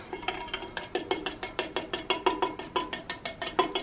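A small hand whisk beats coffee in a bowl with quick, even metallic clicks, about four strokes per second, steady and close with no talking.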